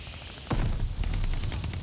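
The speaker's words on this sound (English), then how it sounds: "I'm just blindly shooting" Gunfire in Call of Duty Vanguard multiplayer: after a quiet start, a sudden blast opens a dense, continuous volley of booming shots and rattling bursts that stays loud to the end.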